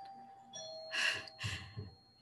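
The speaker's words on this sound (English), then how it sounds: "forgive that doorbell sound." A doorbell rings out with two bright chime tones in quick succession over a low hum, fairly faint, with no talking.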